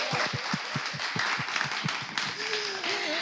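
A studio audience applauds in brief, evenly spaced claps, moderately loud and near, with a voice speaking over the clapping toward the end.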